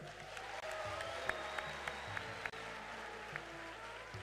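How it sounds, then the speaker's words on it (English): A gathered audience claps to welcome visiting African delegations at a formal address, a moderate, fairly distant spread of hand claps with a few sharper individual claps and a low background hum. "I want all of you to clap for the visitors who have come to visit us here."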